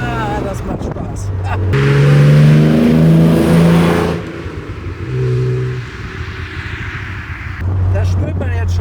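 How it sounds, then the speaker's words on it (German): A 1970 Maserati Mistral Spyder with a 4-litre six-cylinder engine drives by up close, loud and revving through rising and falling pitch, with gear changes and a brief lull before the engine swells again. "Die 4-Liter-Maschine ist übrigens der letzte rein 6-Zylinder, der gebaut wurde."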